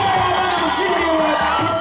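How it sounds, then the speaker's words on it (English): Spectators at the women's half marathon finish of the 2013 Kilimanjaro Marathon in Moshi, Tanzania, cheer loudly in a continuous dense roar of shouts and whoops. "The Moshi crowd celebrated as the great Tanzanian runner Sarah Ramadan won the women's half marathon"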